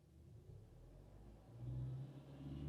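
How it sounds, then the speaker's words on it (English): A 2014 Hyundai Tucson with a stalling issue idles in park, a low steady engine rumble that swells as the revs are raised, growing louder and deeper in the second half. "So right now on park, I'm going to raise the RPM"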